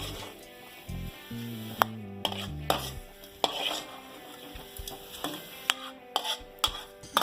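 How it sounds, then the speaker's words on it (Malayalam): Fish curry masala being stirred in a pan: a spoon scraping and knocking against the pan at irregular intervals, with a soft sizzle underneath, close, with no talking. "നന്നായിട്ട് ഇതുപോലെ ഇളക്കിക്കൊണ്ടിരിക്കുക."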